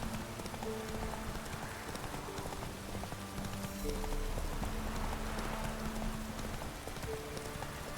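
A horse gallops in the video game The Witcher 3, with rapid rhythmic hoofbeats over a continuous soundscape that resembles rain, joined by soft tonal game music.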